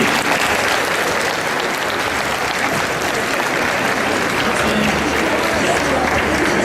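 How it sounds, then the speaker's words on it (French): Loud, dense applause from the audience at a cosplay parade at Japanantes 2012, a steady, sustained wash of clapping that holds at full strength for the whole stretch, with a faint crowd murmur underneath. "Je pense que nous pouvons lui accorder ces grands applaudissements."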